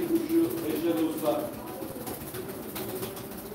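Pigeons at a live pigeon auction give soft, repeated cooing calls, clearest in the first second, while people talk nearby throughout.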